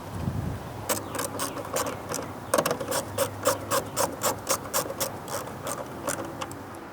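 Ratchet driving the bolts back in after a new main fuse is clipped into a car's fuse box, a close run of rhythmic mechanical clicks and ratcheting strokes after some handling noise, no talk.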